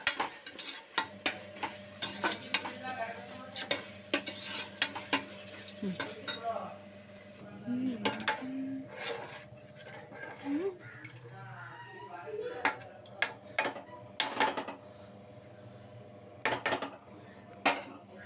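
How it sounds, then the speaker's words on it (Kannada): Metal utensils being handled and washed, sharp clinks and clatters of pots and cutlery scattered throughout at close range, with a person talking over much of it. "ಈಗ ಇಷ್ಟು ಪಾತ್ರೆ ಎಲ್ಲನೂ ತೊಳಿಬೇಕು"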